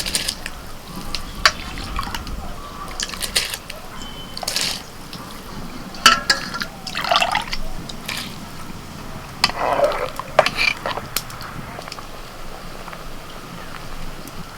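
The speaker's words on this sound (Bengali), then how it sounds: "জল ফুটছে এবার চালটা তুলে দিচ্ছি" Rice is tipped into a pot of boiling salted water with bay leaf and whole spices, giving soft splashes and pours over a steady bubbling bed, with a few sharper clinks and drips.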